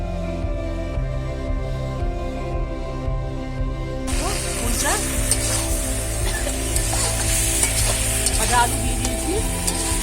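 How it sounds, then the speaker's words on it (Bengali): Village-style country chicken curry is stir-fried in a pan, and a loud, dense sizzle with scraping stirs starts partway through, following several seconds of steady tonal background sound. "আর একটু কষিয়ে নেব"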